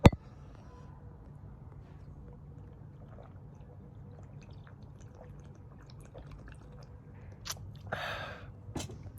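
Crunchy snacks are chewed quietly between sips of beer, with faint, scattered bites and small clinks over a low, steady background hum. A slightly louder crunching patch comes near the end.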